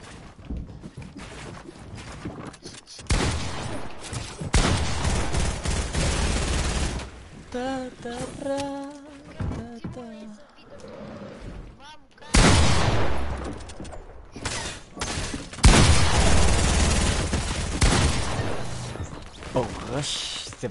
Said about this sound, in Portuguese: rasgando a tiro